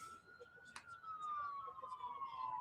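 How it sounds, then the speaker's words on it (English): A police or ambulance siren wails in the distance during a minor-league baseball game, one long falling tone faint and far off under crowd murmur and a sharp crack partway through. "You can hear the police sirens or ambulance sirens out in the distance."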